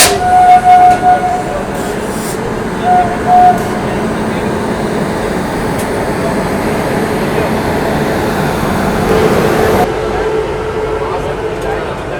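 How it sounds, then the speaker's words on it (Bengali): Passing North East Express train running from Kamakhya to Anand Vihar Terminal, heard from aboard another train at Deen Dayal Upadhyaya station; a steady loud rumble with a few brief tonal beeps early, continuing evenly before easing off near the end. "ওই ট্রেনটা হচ্ছে নর্থ ইস্ট এক্সপ্রেস কামাখ্যা থেকে আসছে যাবে আনন্দ বিহার টার্মিনাল পর্যন্ত"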